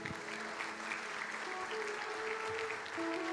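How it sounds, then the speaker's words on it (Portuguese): Congregation applauding during a church sermon, a soft, distant spread of clapping with sustained musical tones playing underneath. "Aplaude o Senhor Jesus."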